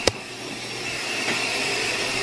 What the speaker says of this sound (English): The washer's going.